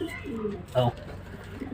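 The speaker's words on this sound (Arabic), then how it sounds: "ده الحمام الكينج اهو" King pigeons coo softly near a nest with freshly hatched chicks and eggs, with a low burbling coo rising briefly amid someone talking in Arabic.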